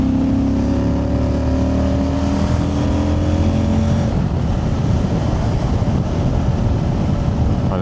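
A car drives close past in loud traffic. A rising engine hum gives way to a broad rushing roar that holds to the end.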